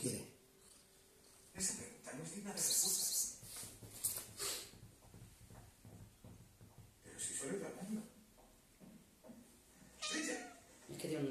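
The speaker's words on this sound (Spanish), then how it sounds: "Tiene un miau más cariñoso." A pet cat meows several times, close and fairly clear, in separate calls between stretches of people talking nearby.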